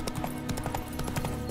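Horse hooves clip-clop in a steady trotting rhythm while riding in The Witcher 3, close and continuous over game ambience, with no talk.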